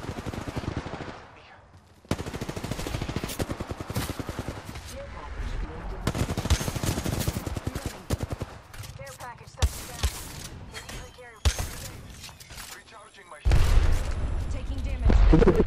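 Rapid bursts of automatic gunfire in an Apex Legends match, loud and continuous with short pauses, and a player talking excitedly over the shooting.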